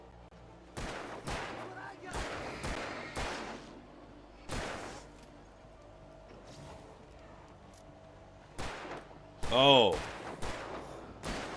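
Bursts of video-game gunfire crack out in scattered clusters, with a louder volley near the end, while a player's voice speaks briefly over the action.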